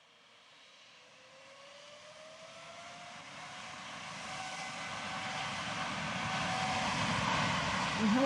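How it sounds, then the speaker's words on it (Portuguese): An airplane taking off on a runway roars with a steady engine rumble that builds gradually in loudness over several seconds, heard from beside the runway without talk. "Vejamos agora algumas imagens de um avião decolando"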